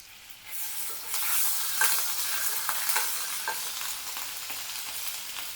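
Ginger garlic paste frying in butter and oil over high heat, a close, bright sizzle that flares up quickly and settles into steady hissing with intermittent stirring scrapes.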